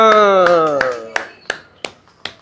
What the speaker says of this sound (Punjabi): ਤਾੜੀਆਂ